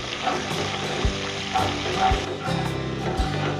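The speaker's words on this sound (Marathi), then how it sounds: "यावरती सर्वात पहिला जाईल राई जिरं त्यानंतर कढीपत्ता हिंग लसूण परतून घ्यायचं आहे" Mustard seeds, cumin, curry leaves, asafoetida and garlic sautéing in hot oil, a close, steady crackling sizzle with a few low knocks from stirring, no one talking.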